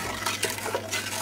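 Flapjack mixture being stirred in a pan, a steady scraping and clinking of utensil against metal running throughout the short stretch, close and moderately loud with no talking.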